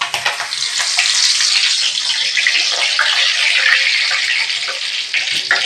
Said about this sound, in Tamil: ஸ்டவ் ஆஃப் பண்ணிவிட்டு கருவேப்பிலையே பொரிச்சிக்கலாம்